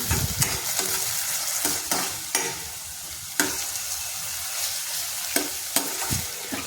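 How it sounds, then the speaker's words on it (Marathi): Finely chopped tomato sautés in hot oil for masala Maggi, a continuous bright sizzle broken by repeated sharp scrapes and clinks of a spoon stirring the pan, close and alone. "टोमॅटोला तेलामध्ये चांगल्या प्रकारे परतून घ्यायचं आहे"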